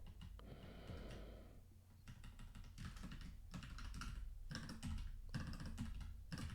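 Quick bursts of computer keyboard typing while coding a web app, with brisk clusters of key clicks separated by short pauses, fairly quiet and close, with no talking.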